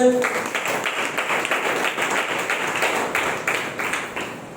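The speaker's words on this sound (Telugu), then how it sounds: "చప్పట్లు దేవుని పెట్టండి." A church congregation clapping for God during Sunday worship, dense rhythmic applause from many hands at moderate distance that continues throughout and fades slightly at the end.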